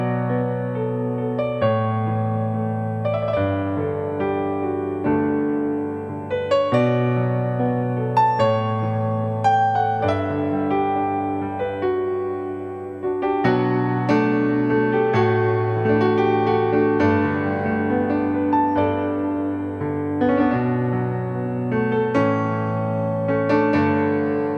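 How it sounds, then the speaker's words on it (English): A Yamaha keyboard piano patch played solo with no strings or pads, a flowing worship-style passage of sustained chords and melodic phrases, clear and close throughout. "This is just my piano without any violins, without any pads, nothing else, just the piano."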